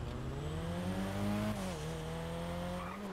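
A customized car's engine in GTA 5 revs alone and close, its steady growl rising and dipping in pitch over a few seconds with a brief squeal-like edge.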